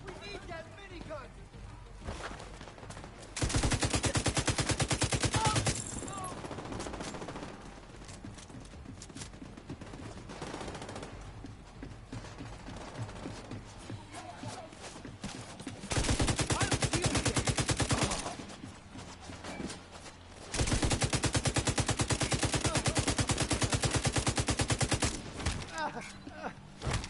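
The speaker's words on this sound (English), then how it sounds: "We need that minigun!" Minigun fire in The Division 2 tears out in long sustained bursts, three loud stretches of rapid continuous shots separated by quieter game ambience.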